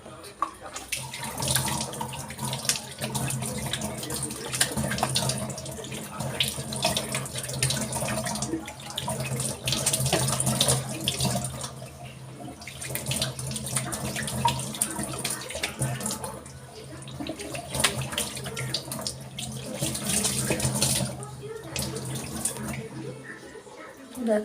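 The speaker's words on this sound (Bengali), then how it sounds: "তো দেখো এবার আমি এটাকে জল দিয়ে ধুয়ে তোমাদের দেখাচ্ছি।" Running tap water splashes steadily as a face pack is washed off, swelling and fading in uneven bursts for about twenty-five seconds at moderate level.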